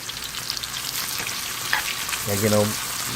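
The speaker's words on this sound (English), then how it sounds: "I'm gonna add the onions to it and fry them." Onions frying in warm oil in a pan, a steady sizzle throughout with a brief stir or scrape near the end.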